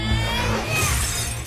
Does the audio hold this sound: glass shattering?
yes